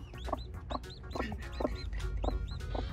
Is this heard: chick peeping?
yes